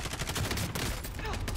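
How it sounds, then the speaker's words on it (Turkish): Rapid, dense gunfire from a Call of Duty Warzone match, where sniper rifle shots are being fired; loud cracking reports repeat in quick succession throughout, with a voice faintly present beneath. "No scope bir tane yapıştırdım ama."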